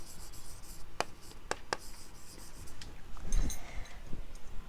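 Chalk or marker strokes on a classroom board while a chemical equation is written, a few sharp taps and short scratchy strokes spaced apart, then a denser burst of writing near the end, close and alone without talk.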